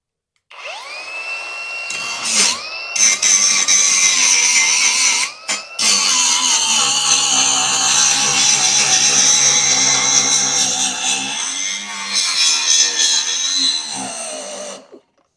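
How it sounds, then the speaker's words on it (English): A DCA 20V 4-1/2 inch cordless angle grinder with a regular grinding wheel grinds 3/8 inch thick steel clamped to a table: a loud, high whine that spins up, briefly drops and restarts, then holds a steady, harsh grinding roar before winding down, very close. "I've got just their regular grinding wheel on here, and let's see how it does."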